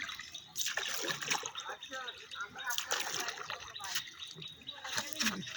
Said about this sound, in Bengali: আমাদের নৌকা ভ্রমণ চলতেছে।